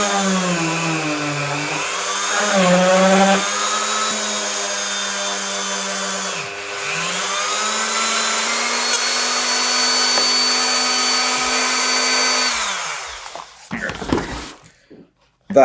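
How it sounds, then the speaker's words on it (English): A Dremel rotary tool fitted with an engraving bit drills holes, its high steady whine running loud for about twelve seconds with pitch dips as it bites, then cutting off into brief clatter. "now we need to put these holes through, and I'm just going to use another attachment for the Dremel"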